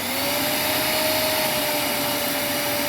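AONUS A9MAX robot vacuum cleaner running at steady suction, a loud continuous whir with a sustained motor whine and broadband airflow hiss, no talk over it.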